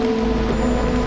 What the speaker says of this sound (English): Storm is here.